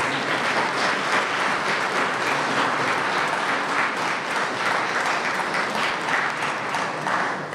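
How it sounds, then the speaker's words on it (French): Steady, dense applause from a crowd at the Pardon de Saint-Cado religious festival in Belz, Brittany, sustained and fairly loud throughout without pause. "Oui, il faut applaudir, mais oui, il faut applaudir."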